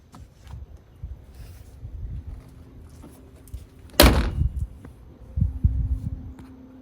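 A single sharp thunk as the trunk lid of a 1989 Ford Mustang Foxbody notchback pops open, followed by a few dull knocks and rustling handling sounds, close by.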